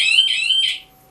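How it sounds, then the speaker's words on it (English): An Indesel FireKnight fire alarm on a laser cutter sounds a loud, shrill electronic tone in two or three pulsing bursts, with no talk, then cuts off near the end. "you'll get an audible alarm"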